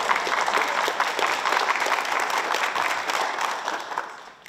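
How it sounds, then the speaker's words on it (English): Audience applause at a public environment forum in Canada, a dense steady wash of many hands clapping that holds loud throughout and tapers off at the end. "I think we can clap for that"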